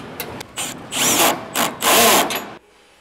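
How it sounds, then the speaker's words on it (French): Cordless screwdriver with a Phillips bit tightening hinges while side panels are fitted to a flatbed trailer, heard as several short whirring bursts of varying length with brief pauses between them, close and loud, ending in quiet. "Nous allons maintenant serrer les gonds. Pour ce faire, vous aurez besoin de la visseuse avec l'embout cruciforme."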